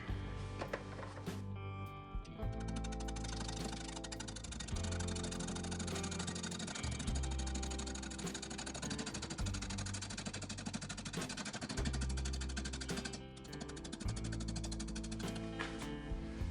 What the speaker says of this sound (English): 250 RPM, and I'm using my 1/2 inch bowl gouge.